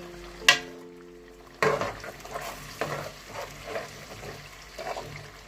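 Ginger garlic paste drops into a hot karahi with chicken, starting with a sharp clatter and a sudden loud sizzle that settles into steady frying with a few stirring scrapes.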